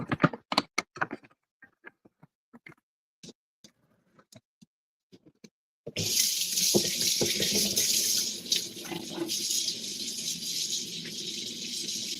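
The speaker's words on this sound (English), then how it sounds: "gotta wash my hands" Hands washed under a running kitchen tap, first scattered clicks and rattles, then a sudden steady gush of water splashing into the sink that continues to the end.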